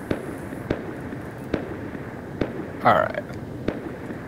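Distant raid explosions in the video game Rust, a series of sharp booms spaced about a second apart, with one brief voice in between.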